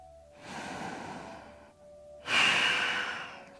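Deep, slow yoga breaths taken while holding a pose: one long airy exhale, a short pause, then a louder, rushing breath, close to the microphone with no talking.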